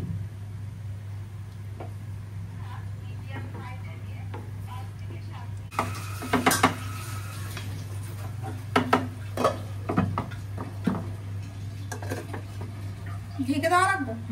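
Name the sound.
stirring fish in a cooking pot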